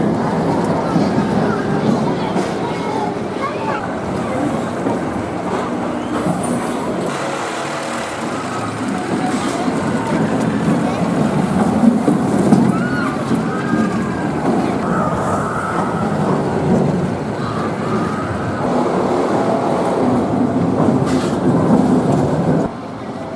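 Dragon's Fury, a spinning roller coaster at Chessington, gives off a continuous rumbling roar of cars running over track, rising and falling through the ride, with riders' voices mixed in.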